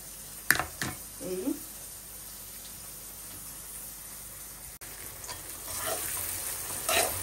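Onions frying in a pan with a steady soft sizzle, broken by a few scraping stirs near the start and again toward the end, plus brief spoken sounds.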